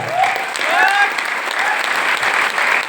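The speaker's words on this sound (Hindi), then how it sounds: "ताली में दम नहीं दिख रहा है" Audience applause at a resort meeting fills the clip, steady and fairly loud, with a few faint high whistles or cheers mixed in.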